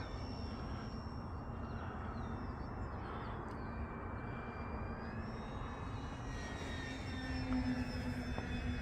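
E-flite Beechcraft D18 1.5m twin-engine RC model airplane in flight, a steady whining motor drone at moderate distance with a slight pitch shift as it passes, heard alone without talk.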